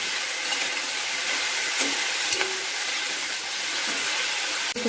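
Onion flower stalks and eggplant fry in a kadai, giving a steady broadband hiss that runs unbroken from start to finish, with a few faint clinks and no voices.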